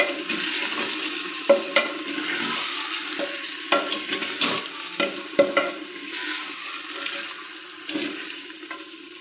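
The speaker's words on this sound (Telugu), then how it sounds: "ఆయిల్ పట్టేలాగా, ఈ గ్రేవీ పట్టేలాగా కలుపుకుందాం." Spicy chicken gravy stirred through hot oil in a pan for Kunda chicken, a steady close sizzle with repeated scraping strokes and soft knocks of the spoon, no talk.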